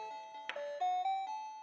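A battery-powered wireless doorbell chimes a bright electronic melody, a short run of clear sustained tones stepping through several notes, close and alone without talk.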